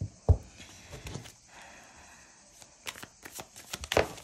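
Tarot de Marseille cards are shuffled and drawn by hand, with soft papery flicks and a few sharp snaps. The sounds are close and quiet, with gaps between them.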